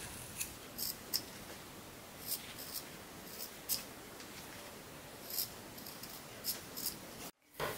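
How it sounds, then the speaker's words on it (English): Scissors snip the fabric corners of a sewn bookmark in a quick series of about a dozen close, crisp cuts over a quiet hiss, with no talking. "Now take some scissors and you are going to trim these corners to reduce the bulk"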